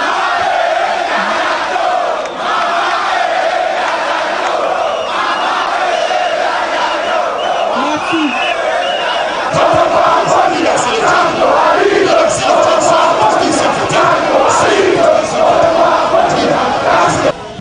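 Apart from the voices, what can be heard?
crowd of MRC supporters cheering at a rally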